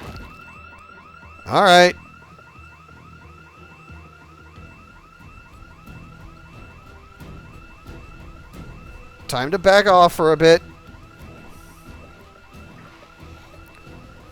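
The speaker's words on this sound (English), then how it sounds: "So that alarm is going to attract every zombie in the area." A car alarm in the Project Zomboid zombie game wails in two loud bursts of rising-and-falling siren whoops, one short and one longer, over a steady background hum, with someone briefly talking.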